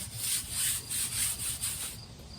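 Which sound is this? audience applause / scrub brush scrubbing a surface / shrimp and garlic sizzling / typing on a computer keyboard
scrub brush scrubbing a surface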